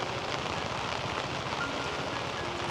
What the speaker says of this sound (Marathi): नदीला पाणीला जोर बघ किती आहे